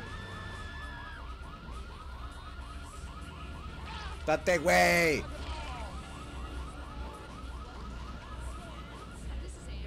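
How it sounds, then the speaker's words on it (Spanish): A car alarm in GTA 3 blares with a steady, repeating rising wail, joined by a brief loud burst of a sharper siren-like sound midway, while someone talks over it. "Si hubo problema, prendió la alarma."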